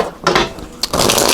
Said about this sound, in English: So I'm just going to give these a quick shuffle and take 4 cards